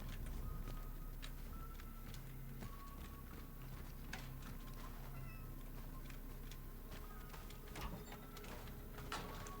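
A cat meows in a video game, with short mews scattered over a constant hum and clicking game sounds, fairly faint.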